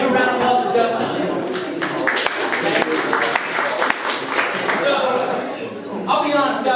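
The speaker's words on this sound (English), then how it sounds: "give a round of applause for Justin." An audience at a Startup Grind fireside event claps for Justin, a steady patter of applause with a voice speaking over it.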